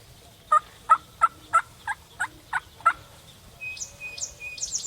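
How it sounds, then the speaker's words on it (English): Wild eastern turkeys gobbling in a rapid series of about eight loud calls on public hunting land, followed by fainter higher bird chirps at a distance. "I don't think I've ever heard that many turkeys gobbling."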